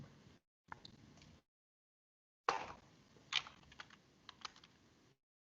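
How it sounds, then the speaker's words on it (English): Typing on a computer keyboard at a bash console, with short bursts of close, crisp keystrokes separated by pauses and a couple of louder key taps. "so that you can see what I am typing here."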